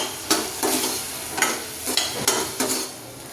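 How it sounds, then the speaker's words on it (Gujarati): A spoon stirs salt into Gujarati cauliflower sabzi in a pan, with about six distinct scraping strokes over a soft sizzle, close and clear with no talking. "આપણે એમાં સ્વાદ પ્રમાણે મીઠું એડ કરીશું અને તેને મિક્સ કરી દઈશું"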